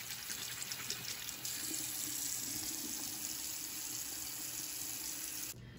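Tap water runs steadily into a bathroom sink while a retainer is washed with soap and water, a constant close splashing stream that stops abruptly at the end, with no talking.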